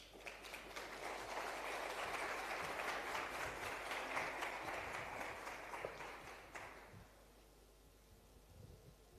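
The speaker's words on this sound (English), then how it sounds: "give them a warm round of applause as they come up onto the stage" An audience at a South Africa economic update event applauds as speakers come onto the stage, a dense, fairly distant wash of clapping that holds steady for several seconds, then fades out to a quiet room.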